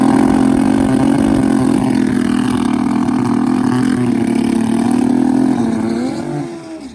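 Turbocharged Suzuki Hayabusa pro street drag bikes at a launch on the strip, a loud sustained engine roar that holds steady, then drops away and fades near the end as the bikes pull off.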